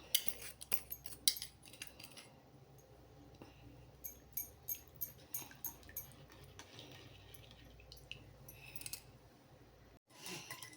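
Spoon scraping and clinking against a bowl while mixing coffee powder, a series of quick rhythmic metallic taps close by, with brief quiet gaps.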